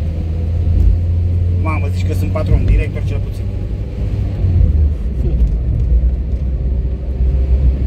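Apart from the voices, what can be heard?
Renault 12 car engine running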